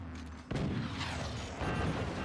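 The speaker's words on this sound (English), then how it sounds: "Another cannon shot going for the core." A cannon fires in the Forts real-time strategy game, a sudden loud boom at about half a second followed by sustained rumbling battle noise, with a second swell of explosive roar later on.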